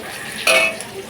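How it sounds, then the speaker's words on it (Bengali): Bitter gourd fries in a pan, a brief sizzling hiss with a quick stir or scrape midway, close by and with no one talking. "উচ্ছেটাকে ভাজা ভাজা হচ্ছে"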